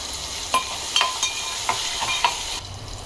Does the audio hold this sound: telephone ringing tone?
no